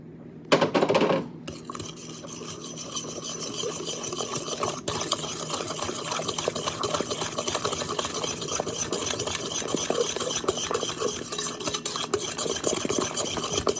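A Danish dough whisk stirring orange cranberry cake batter in a bowl, a steady close scraping and swishing that runs on continuously after a brief louder knock at the start, with no voices.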